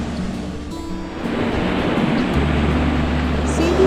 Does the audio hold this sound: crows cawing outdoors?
no